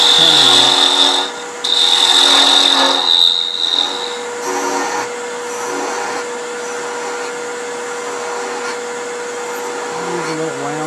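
Wooden chess piece being shaped on a lathe with a skew, a steady loud whirring hum with scraping cutting passes that rise and fade, a brief pause near the start, then quieter continuous spinning.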